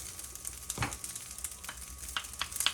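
Fried rice with tofu and bean sprouts sizzles steadily in a pan, a continuous crackling fry with scattered louder pops and stirring scrapes, close and moderately quiet, with no talking.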